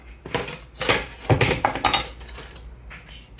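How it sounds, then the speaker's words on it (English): Chopped onions and peppers tumble into a pot of simmering butter, making several loud clattering knocks and scrapes of utensil against metal in quick, uneven bursts. "once you got your onions and peppers cut up, add them to your pot"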